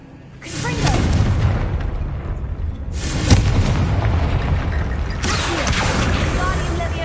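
Fiery Confringo spell blasts in the Hogwarts Legacy video game, three loud booming bursts a couple of seconds apart, each with a rumbling tail, with brief speech in the game.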